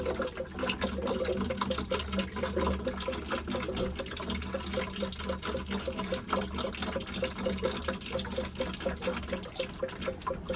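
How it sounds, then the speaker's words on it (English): Water drains through plumbing pipes in a 2-inch Apollo ProPress copper job in Brighton Beach, Brooklyn, a continuous gurgling, trickling flow heard close and alone for about ten seconds. "Just waiting for this to drain."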